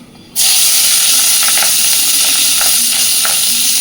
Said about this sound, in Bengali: এবার দিচ্ছি একটু পেঁয়াজ কুচি আর কয়েকটা চেরা কাঁচা লঙ্কা।